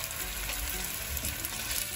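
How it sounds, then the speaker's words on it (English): Venison pieces browning in a hot pan, a dense continuous sizzle, close and steady throughout with no speech. "so we put our meat in, and we're going to brown it a bit"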